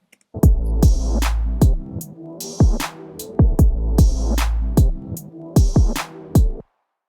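A simple looped beat with steady, regularly spaced kick thumps and a mellow sustained layer underneath, moderately loud with no voices.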